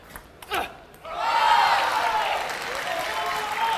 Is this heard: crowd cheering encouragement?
yes